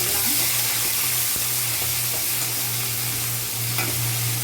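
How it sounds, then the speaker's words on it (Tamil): Onions, curry leaves and two green chillies sauté in hot oil after mustard seeds have gone in, giving a steady, loud sizzle throughout with a continuous low hum beneath and occasional stirring scrapes. "நல்லா விதங்கட்டும் வெங்காயம்"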